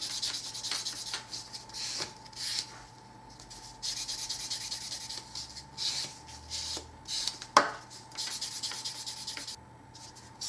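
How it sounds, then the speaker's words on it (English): A 220-grit nail buffer rubs across natural fingernails in short, steady strokes, a soft scratchy sanding sound repeating in bursts with brief pauses, close and fairly quiet with no talking. "Go through all 10 nails working from pinky to thumb and pinky to thumb with the 220 grit side."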